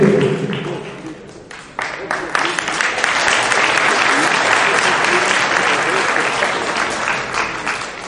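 Audience applause at a Croatian Paralympic Committee sports awards ceremony, starting with a few scattered claps and swelling into steady, sustained clapping from a large crowd, with a voice briefly speaking at the start.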